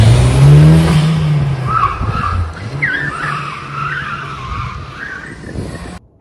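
A 1994 Toyota Celica GT4 imported from Japan skids and drives hard, a loud low engine drone giving way to sustained, wavering tire squeals close by, then cutting off abruptly.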